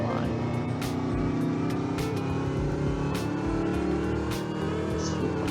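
A car in the Roblox game Greenville accelerates at full throttle, its engine a loud continuous drone with steadily climbing pitch, close and constant with no gaps.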